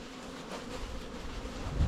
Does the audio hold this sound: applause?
no